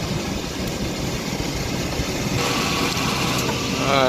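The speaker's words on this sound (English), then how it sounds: "I'm hoping I don't need to replace this AC compressor because it's just cutting on and cutting off" Idling engine of a 2002 Chevy Astro van with a leaking freon line, its AC compressor cutting on and off: a steady, close mechanical hum with a slight shift in tone partway through.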